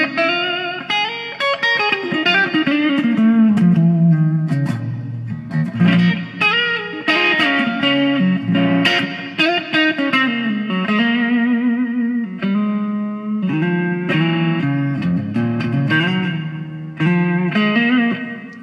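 Electric guitar run through a Digitech Brian May Red Special pedal on a deep reverb setting, sustained melodic lines and chords ringing out with long, washy tails, loud and close.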